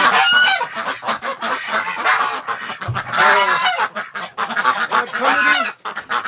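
Wintering domestic ducks and geese on a freezing day honk and quack loudly and close by in overlapping bursts, a noisy chorus with no one speaking.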